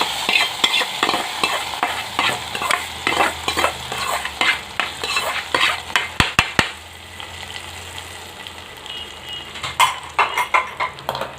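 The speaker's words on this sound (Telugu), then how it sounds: "తాలింపు ఇందులో వేసేస్తుంది." Hot tempering sizzles as it is poured into white gongura chutney, followed by repeated scraping and stirring with a spoon in a quick, uneven rhythm.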